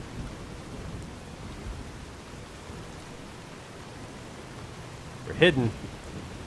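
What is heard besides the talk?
rain and thunder in video game Fallout New Vegas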